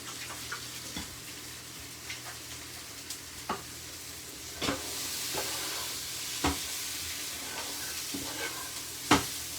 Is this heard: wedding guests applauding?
no